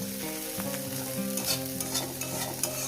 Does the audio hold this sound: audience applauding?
no